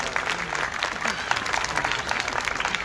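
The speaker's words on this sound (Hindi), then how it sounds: "आपकी भरपूर तालियों में" Dense, continuous applause from a church congregation during a Holy Mass, steady clapping filling the space throughout with some crowd murmur.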